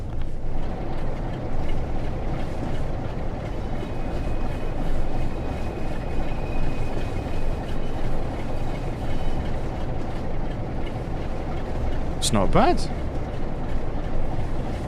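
A Class 47 diesel locomotive in Train Sim World 6, hauling an 1980s West Coast military freight, gives a steady low engine rumble throughout, with a short rising tone near the end and someone talking over it.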